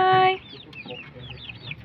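After a short loud tone, soft clucking of organic farm chickens murmurs nearby, several quick throaty calls scattered across a couple of seconds.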